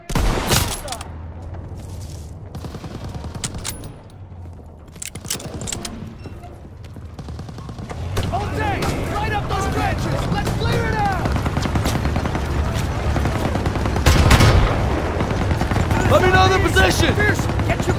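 A dense Call of Duty: WWII battlefield roars with rapid machine-gun bursts and rifle shots layered over constant rumbling combat noise, loud and sustained, while soldiers shout over the din.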